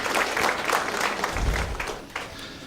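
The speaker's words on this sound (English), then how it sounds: "Let's give a round of applause for our board of directors of Kenosha Community Media." Applause from a banquet audience at a community television anniversary event, a dense burst of clapping with a low thump in the middle, tapering slightly toward the end.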